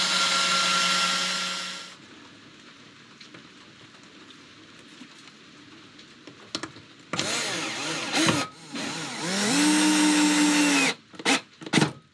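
A power drill drives screws through a bench seat knee wall into a cabinet inside a 2024 Ford Transit 250 camper van conversion, with several loud whirring bursts of varying length separated by quieter gaps and no talking.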